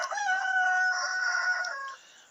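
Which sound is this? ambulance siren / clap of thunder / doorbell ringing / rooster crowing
rooster crowing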